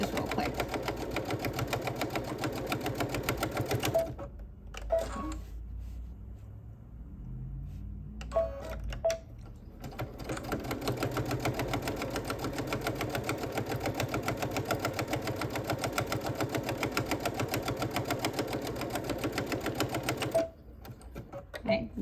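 A sewing machine runs a double stitch on a quilted mug rug, its rapid mechanical clatter starting and stopping in bursts, with someone speaking between runs.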